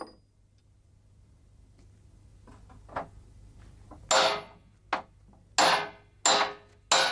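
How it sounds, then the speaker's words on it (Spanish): Sharp metallic hammer blows tightening barrel hoops, sparse at first and then a run of five loud strikes at a steady, slightly uneven pace, close by with a low hum underneath. "Picar los aros consiste en apretarlos a golpe de martillo con el repretador"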